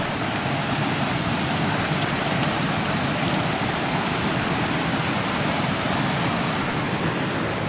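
A stream of water flows near a hidden waterfall outdoors, a loud, steady broadband rush that continues unbroken with no voices.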